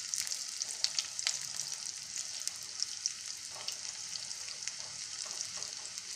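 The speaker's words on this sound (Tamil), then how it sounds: "நமக்கு நல்லா ப்ரௌன் கலர் வர வரைக்கும் இதை பொரிச்சிடும்" Bitter gourd chips coated in gram flour batter deep-frying in hot oil until brown, a steady close crackling sizzle with small bubbling pops throughout, no talking.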